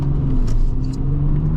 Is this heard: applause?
no